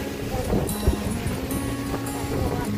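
Strong surf rolls in along the beach at Station 2 on Boracay Island, a steady wash of waves with wind buffeting the microphone, heard up close and fairly loud with no talk.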